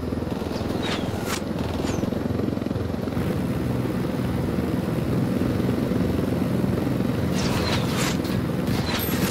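Helicopter in Ghost Recon Wildlands, a loud steady rotor-and-engine drone that continues unbroken, with brief higher whooshing bursts near the start and end.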